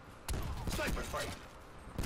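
Sniper rifle shots in the video game Black Ops 4: a sharp report opens the exchange and another comes near the end, mixed with game noise and a voice talking over the action.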